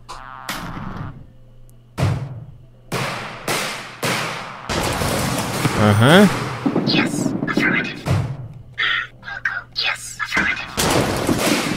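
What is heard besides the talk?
cannon bombardment explosions in video game REDCON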